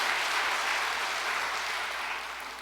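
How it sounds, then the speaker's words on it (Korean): A church congregation applauds in a sustained, dense wash of clapping from many hands, steady and fairly loud, tapering slightly toward the end. "참 어머님께 감사와 영광의 박수를 올려주시기"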